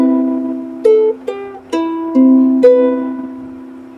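A solo ukulele plays a fingerstyle phrase, with five or six distinct plucked notes in a gentle, even rhythm, close and clear, each ringing into the next.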